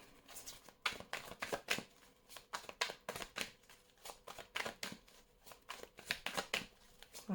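Tarot cards are shuffled by hand, a rapid series of crisp riffling and slapping bursts up close, repeating in an uneven rhythm roughly every half second, quiet and with no talk over it.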